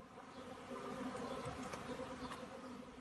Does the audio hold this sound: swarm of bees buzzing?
yes